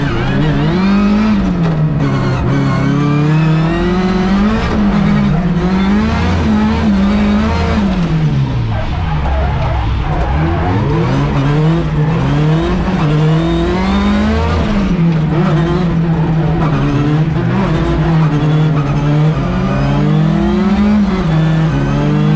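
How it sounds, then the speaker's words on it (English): Drift cars, including a white Lada, battle side by side at a winter drift competition, engines loud and close with constant high revving, pitch rising and falling as throttle is worked, with tire noise throughout. "We're battling Imohan in his white Lada, and he drives a coilers 15 in RDS"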